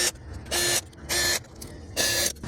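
A ratchet clicks in three short bursts while fuel injector bolts are snugged down on a 2010 Ford Fusion 3.5L engine, with brief pauses between.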